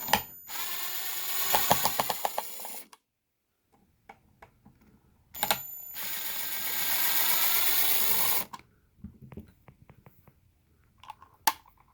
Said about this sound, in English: You'll then take your screw gun, in this case using a Ryobi impact gun. You'll unscrew the outlet.